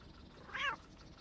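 A cat meows once in the video game Cafe Owner Simulator, a short, clear call standing out over a faint, steady background hum.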